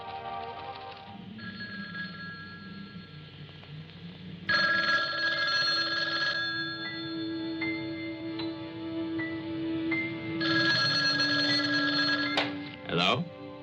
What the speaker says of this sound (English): How about that telephone up at the Butler house? Is it working?